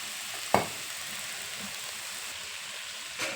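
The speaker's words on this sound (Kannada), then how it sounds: "ಈಗ ಶುಂಠಿ ಬೆಳ್ಳುಳ್ಳಿ ಪೇಸ್ಟ್ ಹಾಕ್ತಾ ಇದ್ದೀನಿ." Ginger garlic paste hitting a pan of fried vegetables and tomato, a steady bright sizzle with a sharp clink of utensil early on and another soft knock near the end.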